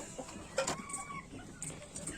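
Hens cluck in a coop in short, close bursts, with a few higher calls between softer murmurs.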